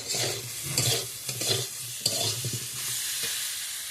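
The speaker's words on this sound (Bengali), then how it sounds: "এবারে ভেজে নিচ্ছি। মশলাগুলো কষানো হয়ে গেছে" Potatoes and spices fry in a pan as a utensil stirs them in quick bursts: scraping strokes over a loud, close, continuous sizzle, with no voices.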